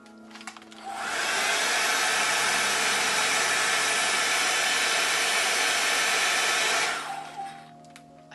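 A hair dryer blows hair with a blow-dry brush, switching on after a second and running as a steady, close, loud whoosh for about six seconds before cutting off.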